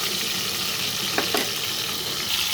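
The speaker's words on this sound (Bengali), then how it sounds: "তো একটা সাইড ভাজা হয়ে গেছে, আর একটা সাইড ভাজা হবে।" Chital fish frying in a pan, a continuous close sizzle and crackle of hot oil with a couple of faint clicks in the middle, no voices.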